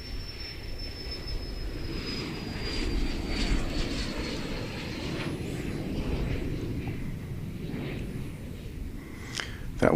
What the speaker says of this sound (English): That was Air Busan, headed to Tokyo, an Airbus A321.